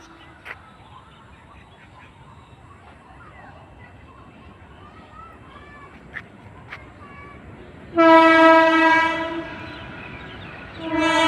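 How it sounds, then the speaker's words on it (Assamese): A freight train comes into Patiladaha railway station with a low, steady rumble, then a loud, sustained horn blast near the end. "এয়া পাতিলাদহ ৰেলৱে ষ্টেচনত ট্ৰেইন সোমাইছে"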